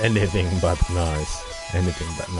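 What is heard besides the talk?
None of the usual background noises is heard.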